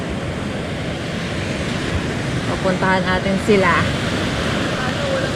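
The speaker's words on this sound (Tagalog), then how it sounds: "Tapos malakas yung hampas ng alon." Steady roar of strong surf washing in continuously after rain at Infanta, Quezon, with a person speaking briefly over the rushing water partway through.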